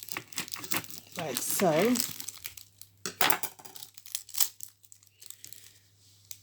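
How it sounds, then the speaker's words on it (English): A knife cuts a red onion into halves, with crisp crinkling and crunching of the skin and flesh at close range, broken by a few sharp cuts and a short stretch of talking. "Cut the onion into two halves"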